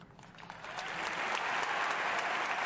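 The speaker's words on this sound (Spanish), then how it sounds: "Arropado por los aplausos y el calor del público" An audience in Arizona applauds Barack Obama's memorial speech, a faint, distant clapping that swells within the first second into a sustained, even roar of many hands.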